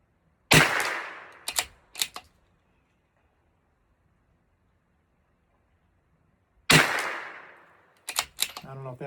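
Two rifle shots fired through a scope with no pressure on it, each a loud sharp crack with a short decaying tail, followed by brief mechanical clicks and clacks; a long quiet gap separates the first shot from the second.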